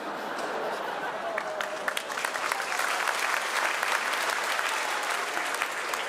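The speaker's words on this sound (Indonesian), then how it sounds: "Ini tepuk tangan nih." A church congregation claps steadily through a Pentecost sermon, a dense, sustained wash of applause close and fairly loud, holding level from start to finish.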